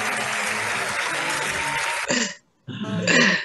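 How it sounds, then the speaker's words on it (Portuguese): A group in an organizational psychodrama workshop breaks into dense, lively applause that stops abruptly after two seconds, then brief bursts of clapping and voices return. "Salve de palmas!"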